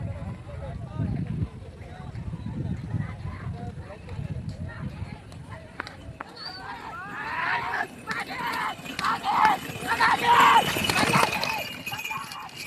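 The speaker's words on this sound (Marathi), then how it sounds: "मित्रांनो पहा अजून एक बैलगाडी आलेली आहे" Rapid hoofbeats of a bullock cart race pound along amid a shouting crowd, the commotion building louder toward the end.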